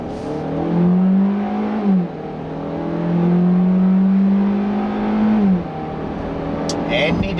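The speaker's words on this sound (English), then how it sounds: "It's a rather unrefined, unpleasant lump that makes a lot of noise and doesn't have much torque" 2017 Hyundai Elantra compact car engine revving under full throttle, a loud, close drone that climbs and drops twice across the stretch, with a speaking voice faintly alongside.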